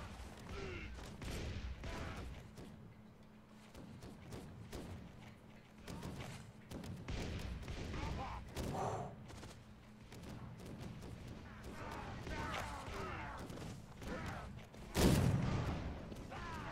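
Sailing-ship cannons in Assassin's Creed Black Flag fire in a naval battle, a scattered series of deep booms and thuds under ongoing game noise, with one sharp, louder blast near the end.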